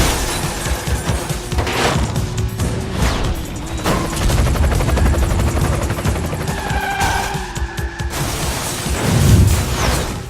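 Loud, dense combat noise in the video game Split/Second with a constant helicopter rotor drone, rapid gunfire bursts and booming explosions layered together, no talking.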